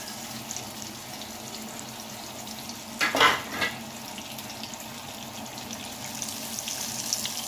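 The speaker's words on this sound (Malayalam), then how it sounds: "ഇത് രണ്ട് വശവും ഒരേപോലെ നന്നായിട്ട് പൊരിച്ചെടുക്കണം" Marinated avoli (pomfret) fish fries in a pan, a soft continuous sizzle with a brief louder burst of crackling and scraping midway.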